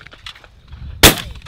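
A single loud, close shotgun blast cracks out at a sporting clay competition, sharp and brief with a short ringing tail, after a stretch of quiet background voices.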